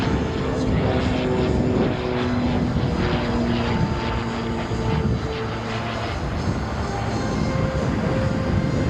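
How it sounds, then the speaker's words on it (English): Molar TT-P38, a scratch-built propeller aircraft, circling at the Wings Over Houston air show, with a loud, steady engine drone and propeller hum that holds throughout, heard outdoors without talk. "As he circles behind your left shoulder, he'll be making his way back to land here off of runway 17 momentarily."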